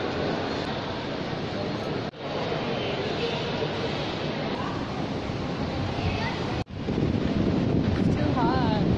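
Wind gusting along a Sydney city street on a hot late afternoon buffets the microphone as a loud, continuous roar, broken by two brief dropouts.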